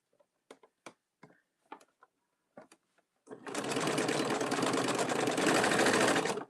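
A sewing machine stitches a tote bag seam: a few sharp, scattered clicks and taps first, then a loud, steady run of rapid stitching that continues close up to the end, with no voices.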